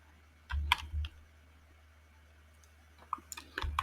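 Keystrokes on a computer keyboard while writing web page code, two short bursts of close, crisp clicking separated by a quiet pause, with no speech.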